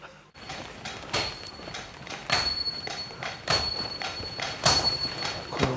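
A Japanese swordsmith hammers metal in a traditional forge, sharp ringing blows landing in a loose repeating rhythm about once a second, clear and fairly close with a faint metallic tone lingering between strikes.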